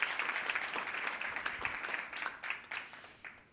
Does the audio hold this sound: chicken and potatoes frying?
no